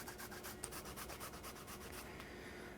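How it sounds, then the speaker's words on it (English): Fresh ginger rubbed against a microplane grater, a quiet rapid series of rasping scrapes in an even back-and-forth rhythm, close and alone. "Now I'm going to grate some ginger in there"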